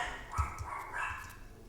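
Several pet dogs bark indoors at home, faint and somewhat distant, in a few short irregular bursts against a low background hum.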